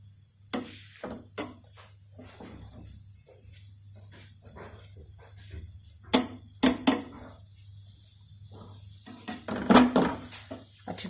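An egg paratha fries in a pan while a spoon presses it down, giving scattered light metallic taps and clinks over a faint, quiet sizzle, with short bursts of scraping here and there.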